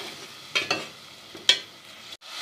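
Whole spices and chili frying in a pan for potato curry, with a soft background sizzle and a few distinct scraping stirs of a spoon, close and fairly quiet, no voices.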